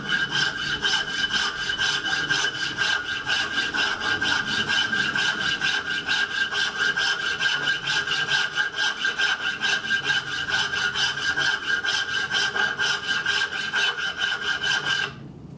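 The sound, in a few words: filing a knife handle with a hand file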